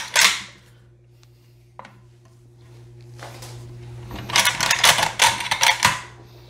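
The bolt of a ZPAP rifle is worked by hand, giving a sharp metallic clack at the start, a brief click, then a burst of rapid rattling, clicking metal near the end over a low steady hum, close up with no talking.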